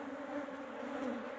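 Honey bees humming during a hive split as they drop into a nucleus box, a steady, dense buzz of many insects close by, droning continuously without pause.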